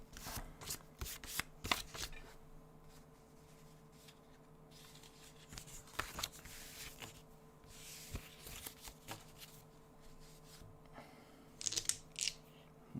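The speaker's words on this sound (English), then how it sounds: "Let's get these cards in order." Strat-O-Matic baseball game cards being shuffled and sorted by hand, a run of crisp papery riffles and flicks with a few sharper snaps near the end, close up with no talking.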